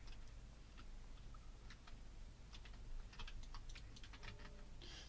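Computer keyboard keys clack while a game is played, a quiet, irregular patter of separate key presses with a faster cluster near the end, alone without talk.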